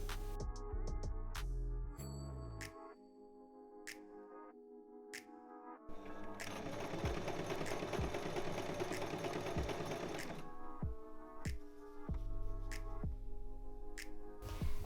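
A sewing machine stitches the lining of a halter swimsuit, with a steady close whir in long runs broken by pauses and short clicking bursts.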